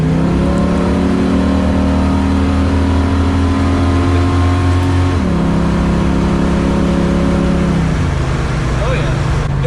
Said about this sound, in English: It's amazing how the car just keeps accelerating